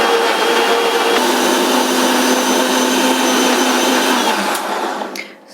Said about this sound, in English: Now we are going to grind the mixture that we had put into the mixer